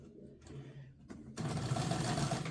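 A sewing machine stitches crumb-strip quilt pieces, starting with a slow hum and a few clicks, then running loud and continuous for the last second.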